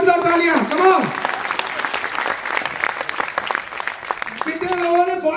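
A large crowd at a Vestige business event gives a loud, sustained round of applause, dense and continuous, with a voice speaking over it at the start and end.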